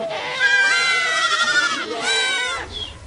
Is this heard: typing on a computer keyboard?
no